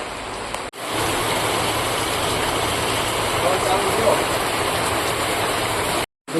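Heavy rain pours down outdoors in a village, a dense, steady roar that stays loud and even throughout, with brief dropouts near the start and end.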